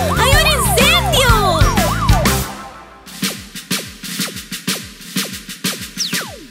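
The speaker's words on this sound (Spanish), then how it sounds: "¡Está pasando el camión de bomberos!" A fire truck passes with its siren wailing in repeated rising and falling sweeps, loud and close, over a dense backdrop of cartoonish music-like tones, before shorter siren whoops and engine rumble continue near the end.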